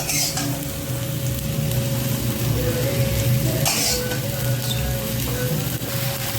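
Oil sizzles loudly and steadily on a jowar bhakri flatbread in a pan, a dense, continuous close-up hiss with a low hum underneath and an occasional light clink.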